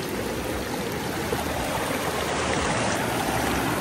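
Cold stream water rushing continuously over rocks outdoors during a picnic, a steady close-up burble and splash with no voices.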